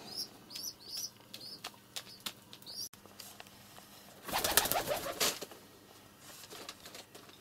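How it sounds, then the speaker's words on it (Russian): Pigeons flap their wings in a bursts of rustling whirrs inside a room, with soft cooing and faint chirps from the birds repeating around them, close and fairly quiet. "Ой, мои голуби!"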